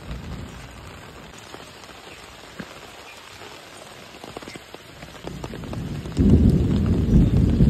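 Rain falling steadily on surfaces with low rumbles of thunder, a soft even patter that swells into a louder, heavier downpour near the end, with no voices.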